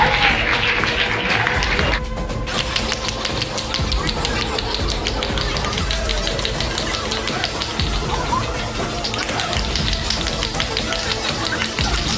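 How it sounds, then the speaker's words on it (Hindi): Students at a school farewell celebration applaud a friend, giving a continuous, dense wash of clapping with crowd noise that stays steady throughout. "तो हमारे एक्टिव फ्रेंड के लिए जोरदार तालियां"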